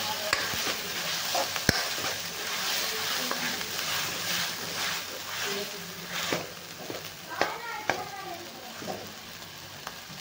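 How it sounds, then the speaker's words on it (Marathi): Masala for Punjabi chole fries in a pan with a continuous sizzle, broken by irregular scraping stir strokes and occasional sharp clinks of the spoon against the pan. "मसाला छान लाल होईपर्यंत आपण चांगला तळून घेणार आहे."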